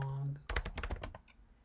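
A short burst of computer keyboard typing, quick close clicks tapped out in rapid succession right after a brief spoken phrase.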